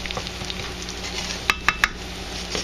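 Onion and mushroom topping stirred in a sizzling pan: a steady low frying hiss with three sharp utensil clinks against the pan near the middle, no talking.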